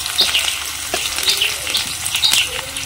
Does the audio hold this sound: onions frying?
yes